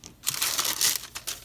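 Wax paper crinkled by hand during a paper craft project with a hot glue gun, a close, loud burst of crisp crackling rustles lasting about a second with brief pauses.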